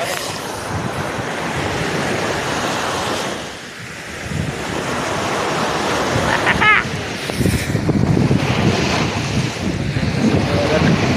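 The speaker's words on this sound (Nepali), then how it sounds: "समुद्रको भेल हो वहाँबाट आउँदैछ" Sea waves rolling onto the shore at Pohang, a loud continuous wash of surf with heavy wind rumble on the microphone and voices talking over it.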